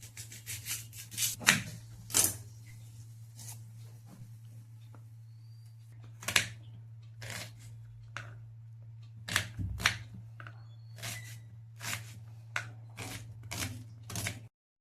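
Two onions chopped with a knife, giving crisp, irregular taps in quick bursts and single strokes over a faint low hum, close and fairly quiet with no talking.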